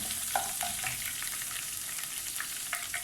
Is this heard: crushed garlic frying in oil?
yes